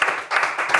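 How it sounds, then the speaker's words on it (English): One person claps three times at a steady, moderate pace, sharp and fairly close in an otherwise quiet setting. "That's just the guy's clapping."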